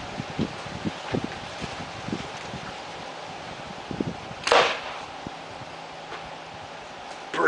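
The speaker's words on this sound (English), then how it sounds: "see if we can go through some construction grade wafer board with the 900 grain bullet" A slingshot with a Rock Hunter G10 frame, TBG bands and a Rockstar pouch fires a 900 grain bullet into construction grade wafer board outdoors, giving one sharp loud crack midway, with light rustling and small knocks before and after.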